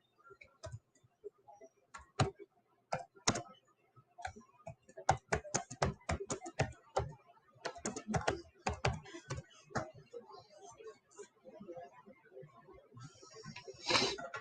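Computer keyboard typing, slow and uneven, with bursts of close, crisp key clicks and short pauses between them, running alone with no talking.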